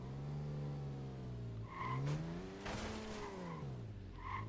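A car in the Dead Rising: Off the Record video game drives and skids, its engine revving up and down in pitch with sharp tire squeals bursting through near the middle and end, loud and close, with no talking.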